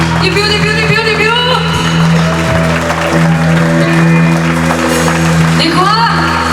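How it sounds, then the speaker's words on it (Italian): An outdoor concert crowd in a park applauds and shouts, loud sustained clapping mixed with cheering voices and ongoing music underneath. "Applauso!"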